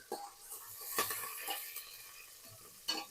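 Curry leaves and asafoetida sizzling briefly in hot oil, with soft stirring scrapes and a few sharp spatters over a quiet background.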